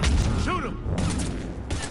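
Gunfire in a Mass Effect cutscene: a dense, continuous barrage of overlapping shots and booms fills the whole stretch at a steady, loud level, with no single report standing apart.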